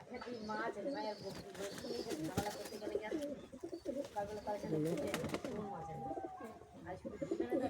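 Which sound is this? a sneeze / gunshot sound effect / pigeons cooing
pigeons cooing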